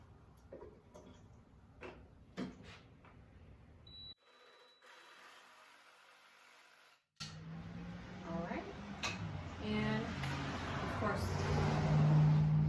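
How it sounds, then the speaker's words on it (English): A car passes outside a home workshop, its engine rumble swelling steadily louder over the last several seconds after some light ticking and handling noises. "Sorry about the car."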